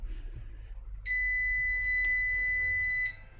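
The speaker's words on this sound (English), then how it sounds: "That's why the buzzer's so loud." A loud electronic buzzer on a Reflow Master Pro reflow oven controller build sounds one steady, piercing tone for about two seconds, close by, with no talking.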